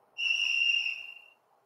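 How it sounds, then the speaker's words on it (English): A sharp, piercing whistle blown as one steady tone, clear and alone, lasting about a second before trailing off. "A whistle can have a very sharp tone."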